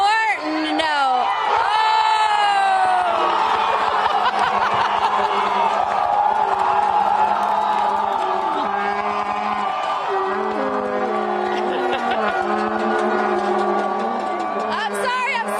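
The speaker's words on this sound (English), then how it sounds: "Obviously, Mexico just scored, and this crowd is going crazy." A packed stadium crowd roars and cheers after a Mexico goal at a 2018 match, a loud, dense wall of whoops and shouting that holds steady throughout, with horn-like tones and voices mixed in.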